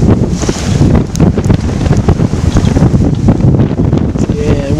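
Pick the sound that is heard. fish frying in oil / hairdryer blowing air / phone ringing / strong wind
strong wind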